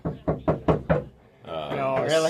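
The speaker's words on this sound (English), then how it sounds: "If you can't hear the knocking through this microphone, then this is going to be a very awkward part." Knocking on a door: five quick, hollow knocks in an even rhythm, close and fairly loud, followed by a voice speaking over a steady background.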